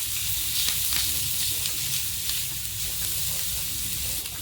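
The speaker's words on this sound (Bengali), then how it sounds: "আবারও ভালো করে একটু নাড়িয়ে দিয়ে ভেজে নেব।" Chopped green chillies frying with ginger, garlic and onion in a pan, giving a steady close sizzle with soft scraping as they are stirred, no voices.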